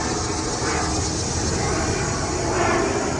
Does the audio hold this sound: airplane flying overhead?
yes